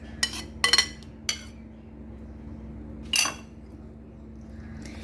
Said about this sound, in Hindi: और इन सारी चीज़ों को ना हमने अच्छी तरह से मिक्स कर लेना है